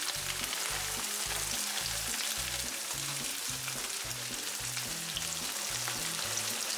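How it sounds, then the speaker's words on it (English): Pork schnitzels fry in hot cooking oil in a pan with a loud, steady sizzle and crackle that fills the whole stretch, with no voices. "Carefully place schnitzels in cooking oil, putting the side closest to you down first for safety."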